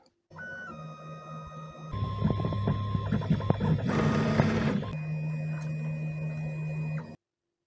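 A noisy 3D printer running, with a steady motor whine, buzzing stepper tones that shift in pitch, and a louder rattling burst midway.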